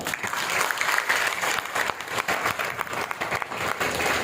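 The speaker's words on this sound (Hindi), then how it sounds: "बजाओ उनके लिए तालियां।" An audience in a hall breaks into sustained applause for a motivational speaker, dense overlapping clapping that stays loud and steady throughout.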